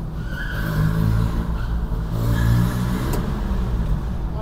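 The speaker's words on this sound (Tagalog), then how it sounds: "Gusto itong sasakyan na to, yung tunog talaga niya." A manual car's engine, said to sound like an RX-8 or Jaguar, revs continuously and loudly at close range for several seconds, with rising and falling surges and no talk.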